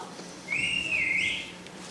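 A little whistle in a stage musical of Peter Pan, a single bright sliding tone lasting about a second, rising and then dipping, clear over a quiet background.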